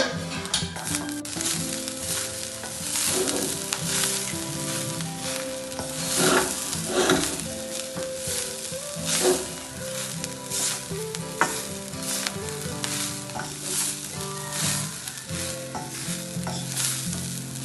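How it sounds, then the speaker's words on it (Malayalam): Grated coconut roasting in a hot pan for a chicken curry, with a continuous dry sizzle and frequent scraping stirs of the spatula against the pan, close and steady, with no talking. "അങ്ങനെ ഞങ്ങൾ ചട്ടി ചൂടായി തേങ്ങ വറുക്കാൻ വേണ്ടിയിട്ട്"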